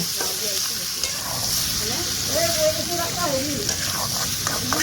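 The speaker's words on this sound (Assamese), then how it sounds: "মাংসখিনি আমি ভালদৰে লৰাই ল'ব লাগিব।" Broiler chicken for an Assamese chicken curry sizzles steadily in a pan while being stirred, a dense frying hiss with a voice faintly audible underneath.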